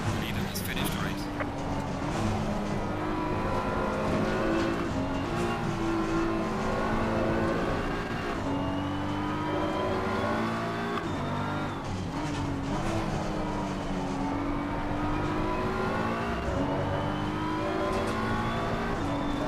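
A BMW race car engine in the video game Assetto Corsa Competizione drives hard, climbing through the revs and shifting gears in repeating cycles over a steady engine drone, with speech over it.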